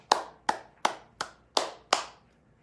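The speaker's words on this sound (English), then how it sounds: "clapping the hands with a bright sound" Six bright, sharp hand claps in a slow, even rhythm, each ringing briefly before the next, close and alone with no voices.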